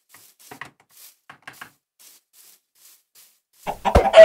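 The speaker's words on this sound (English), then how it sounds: "A few more chickens." Chickens in the video game Minecraft cluck in a short, loud burst near the end, after a few faint scattered clucks over near-silence.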